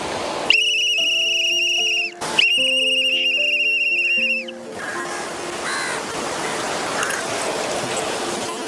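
A loud, shrill whistle blows twice in long sustained blasts to call street dogs and crows for feeding, then gives way to open outdoor ambience with faint crow caws in the distance.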